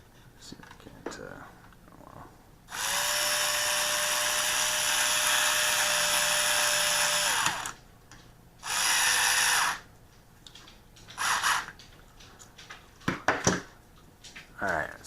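A power driver driving screws whines in long high-pitched bursts, one sustained run for several seconds, then a shorter burst and a few quick blips, with quiet handling noises in between.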